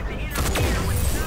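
Gunfire in a video game: a short, close burst of shots, loud and sharp, lasting about a second.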